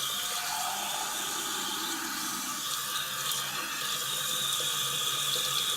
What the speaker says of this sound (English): I'm going to get some water, and I'm going to fill up my trusty Doctor Who mug here.